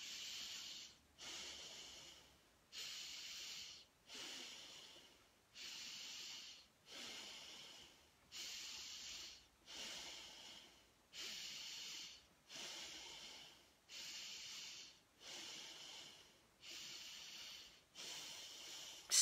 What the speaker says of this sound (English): Okay, so let's start breathing. Three, two, one, breathe in.